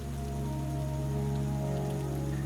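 Rain falls at night in a steady, continuous patter, with a constant low hum beneath it and no voices.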